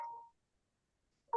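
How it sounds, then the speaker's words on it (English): A mobile phone sounds a short electronic notification, two brief tonal blips separated by a moment of silence, heard clearly in a quiet room. "Sorry, I didn't silence my phone and it's bugging me here."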